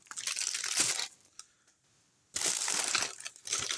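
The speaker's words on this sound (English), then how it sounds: "My apologies for all the crinkling and crunching sounds." Packaging for Taco Bell nuggets crinkles and crunches up close, with a loud burst of crumpling, a quiet pause with a faint tick, then another burst of crinkling.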